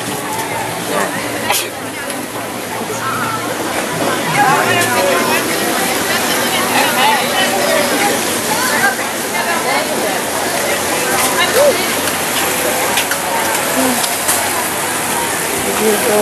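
An outdoor water fountain splashes steadily beside a rose garden with topiary, a continuous broadband wash of falling water heard at moderate distance, with people talking over it throughout.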